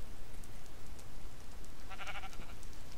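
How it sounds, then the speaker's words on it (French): Sheep bleat in the Minecraft video game, a short harmonic call standing out for about half a second over a steady, noisy game background with no talking. "En plus il y avait des moutons ici."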